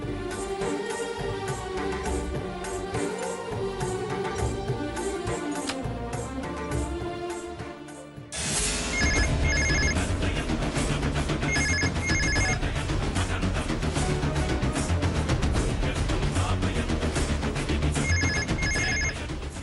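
A telephone rings unanswered with repeated electronic ring bursts in a steady pattern, sounding over loud background music after an earlier musical passage.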